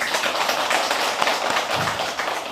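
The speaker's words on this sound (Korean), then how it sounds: "다시 한번 감사의 큰 박수 부탁드립니다." An audience at a Buddhist temple ceremony for Teachers' Day gives a steady, dense round of applause with many overlapping claps that holds at an even level throughout.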